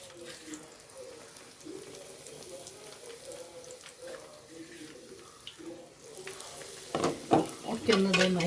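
Plantain fritters (kaya bajji) fry in hot oil with a soft, continuous sizzle, then louder splashes and clatter as more batter-coated pieces drop in near the end.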